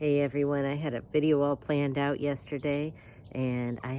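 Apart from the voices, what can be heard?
None of the usual background noises is heard.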